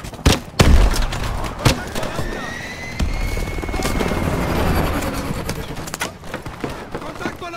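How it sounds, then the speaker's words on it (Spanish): Helicopters and gunfire in the Call of Duty: Advanced Warfare video game, a steady rotor drone with loud sharp bursts and impacts, under shouted combat voices. "¡Helicópteros de Atlas! ¡Están descendiendo con cuerdas!"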